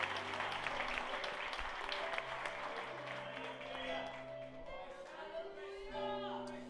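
A church congregation at a Sunday celebration service applauds, a broad wash of clapping mixed with voices and sustained musical tones, fading somewhat midway before swelling again.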